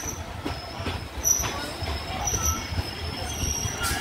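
A train rolls into Balighat railway station with rumbling wheels and high metallic squeals, the rattle of railcars continuing steadily as it slows.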